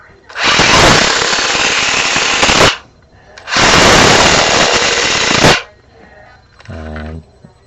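A Traxxas Tomcat RC car runs at slow speed, giving two long loud bursts of buzzing, rattling motor and gear noise, each a couple of seconds, followed by a short voice.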